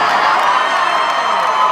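Audience at a Werq The World drag show in Denver, 2018, roaring with loud sustained cheers, screams and whoops from a packed venue, with no talk over it.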